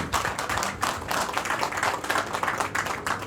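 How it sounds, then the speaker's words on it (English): A poker tournament crowd at a Boomtown New Orleans casino applauding steadily, dense clapping throughout with a few louder individual claps standing out. "Let's give our final 9 a round of applause."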